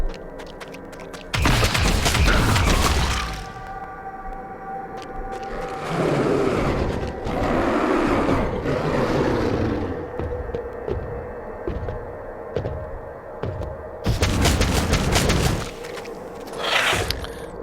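Gunfire in the Warhammer 40k: Deathwatch video game, two loud sustained bursts of shooting, one early and one near the end, separated by a stretch of low humming and rumbling game ambience.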